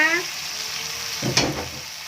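Sunflower sprouts stir-fried with vegetarian squid crackle in a hot pan, a soft steady sizzle with a brief scrape and clatter of stirring midway, close and unaccompanied by speech.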